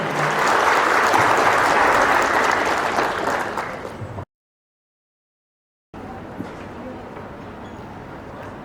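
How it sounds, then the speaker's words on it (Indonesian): Audience at a pharmacist oath-taking ceremony in Padang applauds in a loud, dense, sustained burst, then the sound cuts out briefly before steadier clapping and crowd noise resume. "Berikan tepukan yang meriah."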